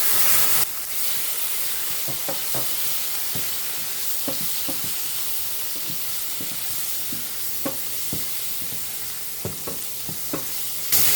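Shrimp and bell peppers sizzle steadily in a hot pan, with a constant frying hiss broken by repeated clicks and scrapes of stirring.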